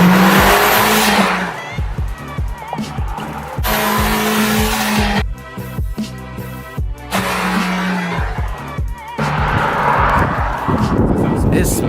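A Mitsubishi Evo X car roars past loudly up close, its engine revving hard through repeated gear changes with tire squeal, while people talk over it.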